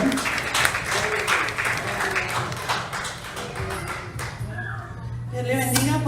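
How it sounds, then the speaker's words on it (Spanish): Church congregation clapping during a service, a spread of uneven claps with a low sustained organ-like tone underneath, a voice speaking over it, and the clapping thinning out toward the end. "les damos un fuerte aplauso, hermanos, a la portadora de la palabra, a mi esposa, la pastora Janet."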